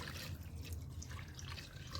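Water is poured over mutton pieces in a cooking pot, with a steady, close, rushing splash that stays even and alone throughout.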